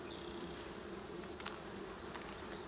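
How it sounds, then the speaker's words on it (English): A dense, steady buzz of many honeybees inside an opened hive's bottom super fills the air close by, a constant droning hum with a couple of brief scraping knocks. "there sure are a lot of bees down here"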